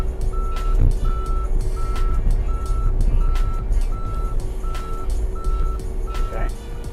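A mini excavator drives with its engine rumbling steadily while a reversing alarm sounds a regular series of loud, evenly spaced beeps over the noise.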